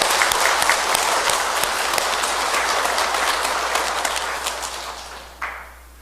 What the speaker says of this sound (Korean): 우리 같이 큰 박수 부탁드립니다.